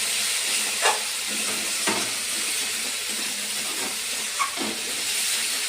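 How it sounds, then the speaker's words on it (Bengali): Mustard, poppy seed, cashew and green chilli paste sizzles in hot oil with a steady loud hiss, broken by a few brief sharper pops, no voices. "দিয়ে আমি এটা এখন তেলের মধ্যে দিয়ে দেবো।"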